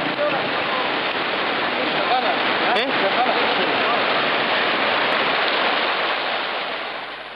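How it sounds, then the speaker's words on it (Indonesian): Flash flood water rushes through villages in Wasior, a dense, continuous roar of torrential water heard close and loud, fading slightly at the end. "Gemuruh air yang datang dari atas mengejutkan mereka"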